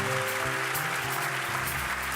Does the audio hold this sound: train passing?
no